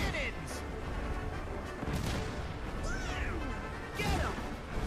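Ship cannons firing during a naval battle in Kingdom Hearts 3, heavy booming blasts with crashing impacts and whooshing swells recurring amid busy game music and effects, with a voice talking over parts of it.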